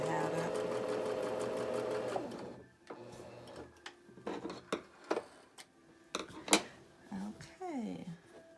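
Domestic sewing machine stitching quilting fabric for a crazy quilt pincushion: a steady, close mechanical whir for about two seconds, then stopping, followed by scattered handling clicks and taps.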